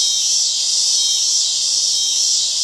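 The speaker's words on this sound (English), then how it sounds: "the cicadas are going wild" Cicadas drone loudly and continuously outdoors in New Orleans, a dense, steady high-pitched buzz with faint low background noise and no talking.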